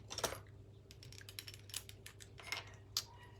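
Quiet, close snips and rustles as scissors cut a paper strip for a watercolour card, a scattered series of faint crisp clicks over a low room hum.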